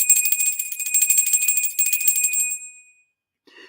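A small hand bell is rung continuously for about two and a half seconds, a bright shimmering jingle that fades out, followed by a faint brief sound after a pause.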